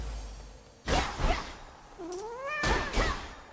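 A cat in the game Hades II meows, two or three close, clear calls, one with a rising pitch, standing alone over quiet background.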